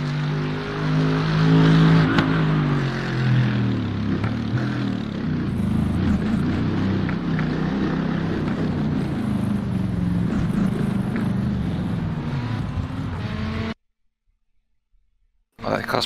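A Mercedes AMG GT3 race car racing at Bathurst in the iRacing game: a loud, continuous engine roar that shifts in pitch as it revs, a voice over it, then a sudden cut to silence near the end.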